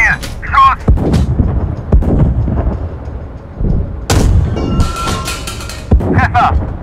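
Tank cannon shots from an East German tank in the Cold War tank simulation game GHPC, several heavy booms spaced apart with rumbling engine and mechanical noise between, while crew voices call out orders in German over the action.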